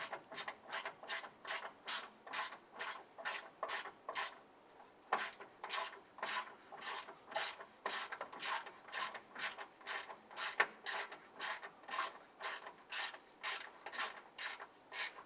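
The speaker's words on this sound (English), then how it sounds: "Now I'm going to tighten this down using our hand ratchet because we're going to be anchoring plastic to metal." A hand ratchet tightens a bolt holding a plastic bumper bracket to metal on a 2011-2017 Honda Odyssey, a fast regular clicking that pauses briefly, then continues close up.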